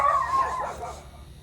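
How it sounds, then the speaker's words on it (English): A single drawn-out yelping bark or whine from a dog, fairly close, fading over about a second. "They're all barking because they hear Jake's four-wheeler."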